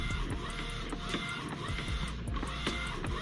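An Epson 1430 inkjet printer runs a print job on transparency film, its mechanism whirring steadily with repeated rhythmic clicks and carriage passes, loud and close with no talking.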